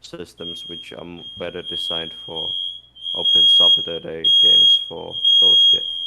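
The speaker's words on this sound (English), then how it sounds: "sorry, that's our fire alarm in the house." A house smoke alarm going off while someone cooks, a loud high steady electronic tone sounding in repeated long pulses behind someone talking over it.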